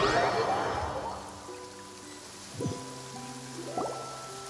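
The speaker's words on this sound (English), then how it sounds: "It's been raining non-stop for a few days now." Rain falls steadily in Genshin Impact, a soft, fairly quiet wash of drops under sustained musical tones, with a couple of brief watery swells near the end.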